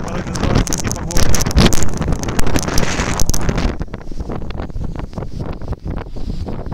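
Strong blizzard wind with snow in Odessa roars and buffets the microphone in loud continuous gusts, easing somewhat toward the end, with a voice speaking over it.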